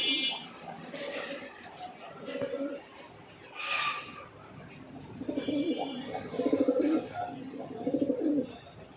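Racer pigeons cooing at a seller's loft, low soft coos repeating through the clip, moderately near, with some chirps and someone talking over them.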